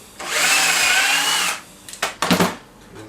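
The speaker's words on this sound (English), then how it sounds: "And then I'm drilling this hole," Power drill boring a dowel hole through a clamped Wolfcraft dowel jig: one steady high whine for over a second, then a few quick clattering knocks and handling clicks nearby.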